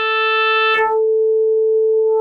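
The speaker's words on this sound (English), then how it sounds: "It's a tighter sine wave than we originally started with." A synthesized tone tightened by frequency modulation holds a steady pitch with bright harmonics, then a brief noisy click cuts the overtones away, leaving a purer sustained sine tone, loud and continuous with no talk.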